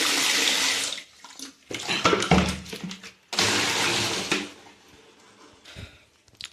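Water gushes out of a glass jar bottle in several loud splashing pours, each a few seconds long with brief pauses, and a clink of glass partway through.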